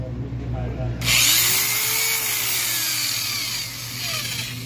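A power drill with a cut piece of silicone fitted on the bit whines as it bores into aluminium, starting with a sharp rise after a second and holding a loud, steady grinding tone with a low hum beneath.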